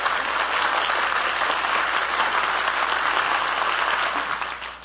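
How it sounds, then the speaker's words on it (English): A studio audience at a 1947 live radio breakfast show in Hollywood claps and cheers, a dense, loud, continuous burst of applause that tapers off at the end. "Let's send them a cheer, shall we?"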